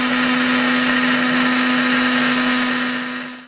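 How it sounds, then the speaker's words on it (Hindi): An electric blender whips cream in a constant, loud, high-pitched whir with a steady motor hum, running close and alone before winding down at the end. "हमने लिया एक ब्लेंडर और ब्लेंडर में हमने डाल दिया क्रीम और क्रीम को हम करेंगे अच्छी तरह ब्लेंड"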